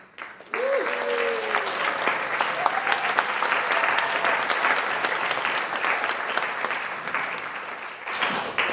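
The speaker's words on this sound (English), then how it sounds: "That was much louder applause than I was expecting." A loud, sustained wave of audience applause bursts in and fills the room, with a brief voice audible early on before the clapping fades near the end.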